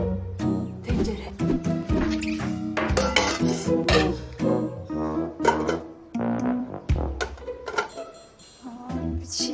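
A cooking pot is handled in a kitchen, with repeated metallic clanks, knocks and clinks of cookware coming close and fairly loud in an irregular rhythm, while people talk at times.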